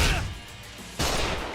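Gunfire in the video game Judgment: a loud burst of shots at the start, then a short lull, then another sustained loud crackling burst of fire.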